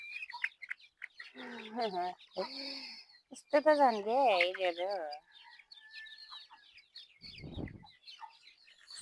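Chicks pecking at grass, cheeping and clucking in high-pitched bursts close by, while someone speaks over them in a couple of short phrases; a brief rustling thump comes near the end.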